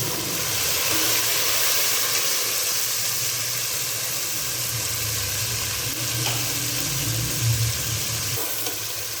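Masala paste tipped onto browned onions in a hot pan for mongray aloo, giving a loud, continuous close-up sizzle and hiss with faint stirring underneath.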